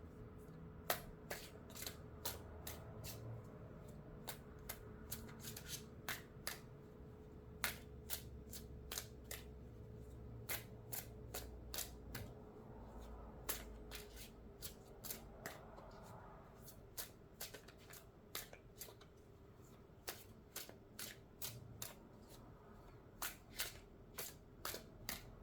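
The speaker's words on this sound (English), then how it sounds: "shuffling my cards" Tarot cards shuffled during a pick-a-pile relationship reading, a long run of crisp, sharp riffling snaps repeating irregularly, some in quick bursts, close and fairly quiet over a soft low background murmur.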